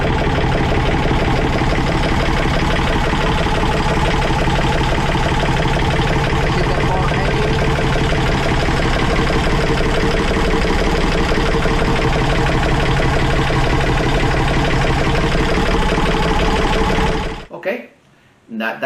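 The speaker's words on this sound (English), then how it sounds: "now we are going to check the engines running." A Yanmar diesel boat engine idles steadily in an engine room, a loud rapid rhythmic chugging that runs unbroken for about seventeen seconds before cutting off.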